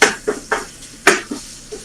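Seasoned ground beef hitting a hot pan for a quick sauté gives a series of sharp clatters and scrapes, about six distinct knocks of utensil on pan spaced unevenly, close and fairly loud, with no talking.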